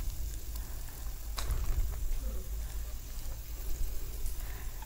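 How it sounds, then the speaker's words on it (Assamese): Oats pakora fritters frying in hot oil while being stirred, a steady close sizzle and bubbling crackle with occasional scraping clicks throughout. "এনেদৰে লৰাই লৰাই ভাজি থাকিব আৰু অকণমান ৰঙচুৱা হ'লেই ইয়াক"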